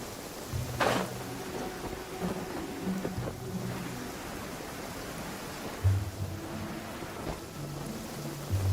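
Steady rain hiss with low rumbling thunder in the Genshin Impact game, a constant wash of noise broken by a few deeper booms and brief thuds, no talking.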